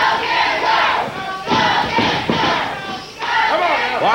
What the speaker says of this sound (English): Go, Jerry, go, says the crowd.